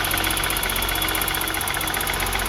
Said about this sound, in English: You guys can hear it just ticking.